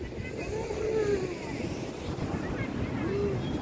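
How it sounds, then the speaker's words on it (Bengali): Ocean waves wash onto the beach at Digha, a low continuous rumble of surf mixed with wind noise on the microphone. "দেখো সমুদ্রের ঢেউ কি সুন্দর"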